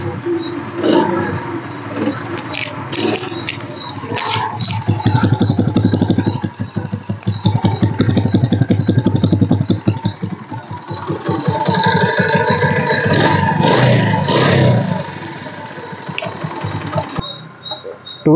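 A 2006 TVS XL Super motorcycle engine runs steadily, revving and rattling at close range for the whole stretch, with no talk over it.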